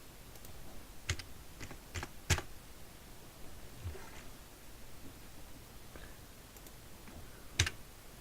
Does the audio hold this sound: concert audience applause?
no